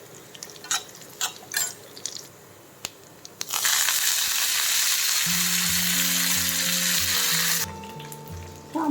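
Mustard seeds and curry leaves hit hot oil for a sambar tempering, bursting into a loud, steady sizzle after a few clinks and crackles, with a running tap or pouring water joining near the end.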